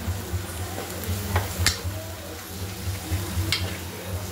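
Spices with turmeric, garam masala and a coconut Malvani paste are stirred and sautéed in a pan for a black pea usal, with a soft continuous sizzle, a spoon scraping, and a few sharp clinks of metal against the pan.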